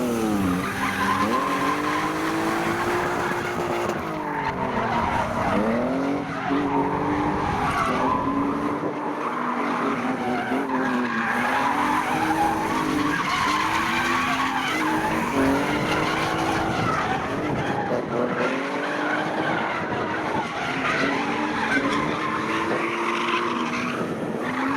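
Drift cars at a North East Drift Championship round skid continuously with loud, wavering tire squeal and revving engines for the whole stretch, no talking.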